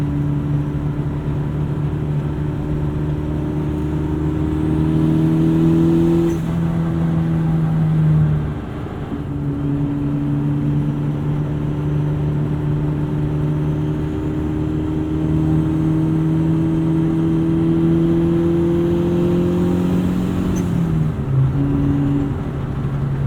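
A heavily modified 2005 VW Jetta GLI with a 1.8T engine drones loudly while driving, its engine note rising through the gears with a few shifts between pulls.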